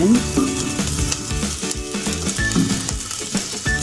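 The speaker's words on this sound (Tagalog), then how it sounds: "simulan na natin ang pagigisa" Spices and ginger sautéing in a little oil give a loud, steady sizzle and crackle, broken by light scraping and stirring clatter, close by with no talking.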